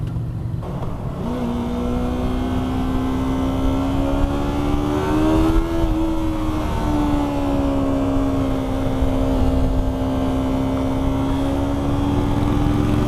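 A Yamaha R3 sport motorcycle engine holds a steady high-RPM whine that climbs briefly near the middle, then settles into a loud, sustained drone.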